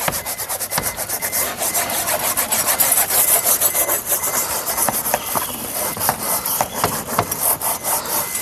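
A cloth or pad scrubs a car surface with all-purpose cleaner and degreaser, producing quick repeated rasping strokes in an irregular rhythm, close and fairly loud with no talk.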